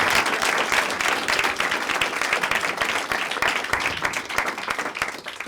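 Dense, lively applause from a comedy show audience, continuous rapid clapping filling the whole stretch at steady loudness with faint crowd noise.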